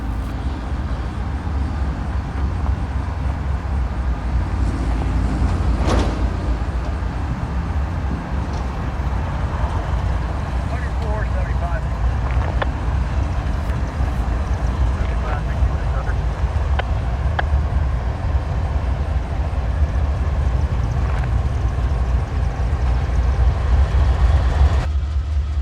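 A CSX local freight train pulls out on Sand Patch Grade between Cumberland and Salisbury, a steady low rumble with faint wheel squeals and occasional clicks rolling on throughout, some voices murmuring underneath.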